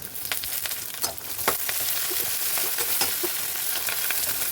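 Onions sautéing in a pan as the base for a Tamil-style fish curry (meen kuzhambu), a steady close sizzle with occasional spatula scrapes and stirs, no talking.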